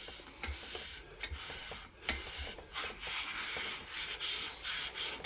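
Abrasive paste is rubbed by hand inside a wooden lidded box, a faint, soft scratchy rubbing with a few light taps and clicks scattered through it.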